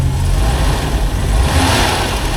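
A classic car engine idles low and steady nearby, a continuous rumbling drone with no break across the short stretch.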